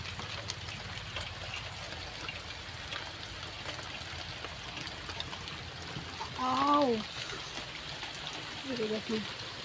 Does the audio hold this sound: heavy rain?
yes